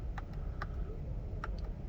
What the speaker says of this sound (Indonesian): Cuma ini suara lampu seinnya nggak bisa diganti-ganti kayak expander ya.